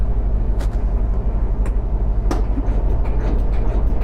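Lawn tractor engine cranking over on a cold start attempt, a steady low rumbling drone with a few sharp clicks and bursts on top, close and fairly loud, no talking.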